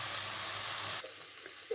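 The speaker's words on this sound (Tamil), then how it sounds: "இந்த சமயத்தில் தக்காளி, இஞ்சி பூண்டு 2மே போட்டு ஒன்று சேர நல்லா வதக்கிக்கலாம்." Onion, tomato, ginger and garlic sizzle steadily while sautéing in a pan for a Chettinad chicken curry, a close, soft hiss that drops quieter partway through, with a faint clink near the end.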